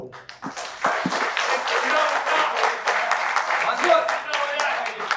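An audience at a school reunion get-together applauds, building from scattered first claps into a dense, sustained round of clapping that fills the room, with a few voices mixed in.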